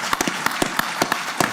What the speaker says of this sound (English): I'd just like to have a round of applause right there